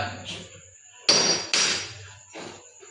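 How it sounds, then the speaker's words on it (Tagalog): Two loud, sharp hammer strikes in quick succession, followed by a softer knock and some faint tapping, each ringing out briefly. "Oh, lakas ang pukpok."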